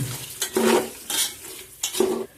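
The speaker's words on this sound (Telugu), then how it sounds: "ఇప్పుడు ఇవన్నీ కలిసేటట్టు మనం శుభ్రంగా కలుపుకుందాం మొత్తం అన్నిటికి ఆయిల్ అంటుకొని బాగా వేయించుకుందాం" A spoon stirs vegetables and bay leaf frying in oil in a pan for vegetable biryani: four or five quick scraping strokes, close and clear, with a soft sizzle between them and no voices.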